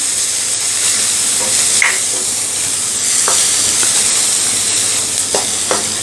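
Vegetables and shredded cabbage sautéing for a jowar-flour millet soup, a steady close sizzle and hiss with a few soft stirring scrapes and clinks, no talking.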